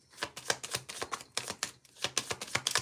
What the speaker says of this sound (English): Let's shuffle.